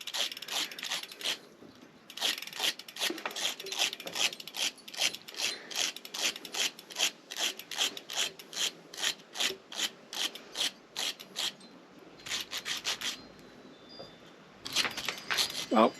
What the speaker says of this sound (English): I'm going to brush the old wax off as best I can